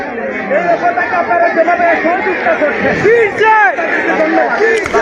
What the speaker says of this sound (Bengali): দর্শকের উল্লাস, উন্মোদন আমরা শুনতে পাচ্ছি